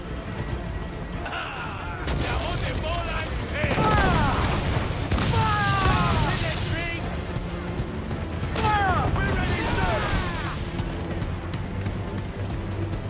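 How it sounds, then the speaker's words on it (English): Heavy ship cannon blasts boom in a pirate-ship game battle, several loud shots in succession amid crashing impacts, with music and shouted voices layered underneath. "To quarters all, man the cannons!"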